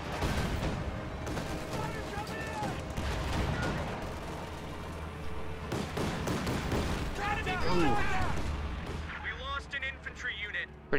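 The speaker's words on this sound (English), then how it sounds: "Pretty big anti-tank strafe right there." In a Company of Heroes match, an anti-tank strafe lands as a run of booming explosions and gunfire, with battle chatter and a commentator talking over the rumble.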